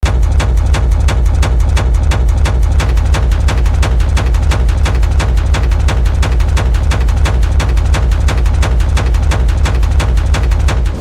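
A loud, dense techno loop pounds steadily, with a punchy kick, thick bass and busy percussion hitting together at a fast, even pulse throughout, with no talking.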